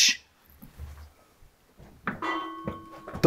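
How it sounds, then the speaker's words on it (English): A single bell rings out with sustained, steady tones after a near-silent stretch in a dark, quiet place, with faint shuffling and breath sounds before it and a sharp click at the end. "Was that a bell? Yeah. A bell just f***ing rang."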